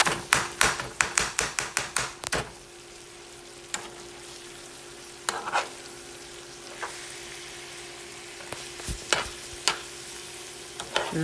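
A spoon stirs tomato paste and flour together in a soup pot for hamburger beefy soup, with quick rhythmic taps and scrapes against the pot over a soft sizzle, then sparse clinks.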